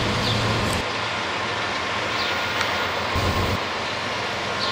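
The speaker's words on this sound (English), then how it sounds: "here we are filming SEPTA trains, and we got a nice little surprise" Steady broadband rumble of a SEPTA train rolling past at 30th Street station, loud and continuous with a low droning hum and faint high squeals, no voices.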